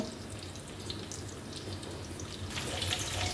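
Tap water runs steadily to rinse a whole hilsa fish, a constant close splashing hiss that grows slightly louder and brighter toward the end, with no voices.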